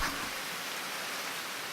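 Steady rain from the visual novel I/O, a soft, even hiss of falling water with no individual drops standing out, quiet and continuous throughout.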